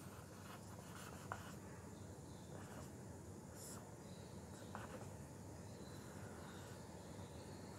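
A pen scratching across paper in short strokes and scribbles, faint and close, over a steady background hum with no talk.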